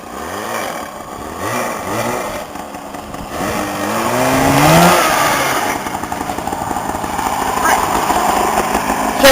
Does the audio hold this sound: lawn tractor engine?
yes